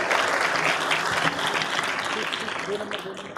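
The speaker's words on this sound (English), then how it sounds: "Give a louder round of applause to yourself" Students clapping at a Delhi University orientation programme, a loud, steady burst of applause from a large hall audience that tapers slightly, with a voice audible over it.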